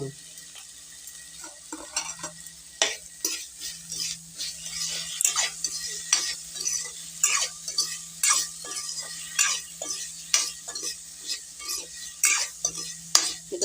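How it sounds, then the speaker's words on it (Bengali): Cut potatoes with a little turmeric fry in a pan with a steady low sizzle, punctuated by repeated sharp scrapes and clinks of a spatula stirring against the metal, with no talking. "ভালো করে কষে কষে ভেজে নিতে হবে আলুকোটা"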